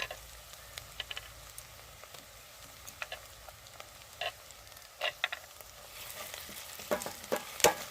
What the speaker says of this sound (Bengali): আদা রসুন বাটাটা দিয়ে আমি আগে ভালোভাবে ভেজে নেবো